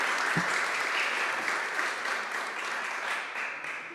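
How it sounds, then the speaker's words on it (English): Dense, continuous applause from a crowd at a city council meeting, steady and fairly loud, tapering slightly toward the end. "Big clap for them"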